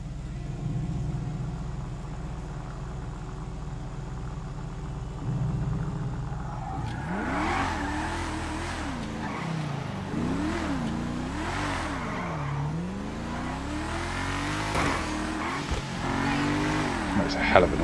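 Paragon R sports car in GTA Online, first idling with a low steady hum, then revving hard in repeated rising and falling sweeps, loud and close, with a short squeal near the end.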